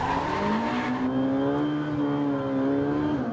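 A Ferrari convertible engine revs up, its pitch climbing and then holding high in a steady, close roar before easing slightly at the end.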